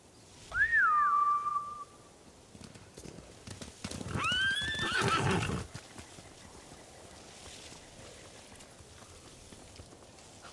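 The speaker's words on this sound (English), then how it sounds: "Bastards scared off the horses." Samurai horses in the video game Ghost of Tsushima let out two loud whinnies a few seconds apart, with hoofbeats and a galloping rush around the second cry before the scene settles into quiet ambience.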